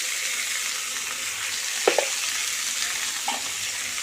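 Capsicum curry seasoned with turmeric and salt sizzles steadily in a pan. A few soft scrapes from the stirring spoon stand out over the even frying hiss.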